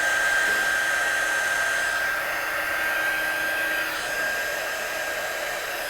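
A heat gun drying wet watercolour ink on a stamped Christmas card gives a steady, loud, continuous whine and rush of blowing air, running unbroken throughout with no talking.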